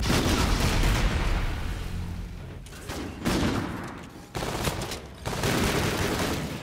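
Rapid gunfire bursts from Call of Duty: Infinite Warfare, including a shotgun, crack out loudly in dense clusters with brief near-silent gaps between volleys.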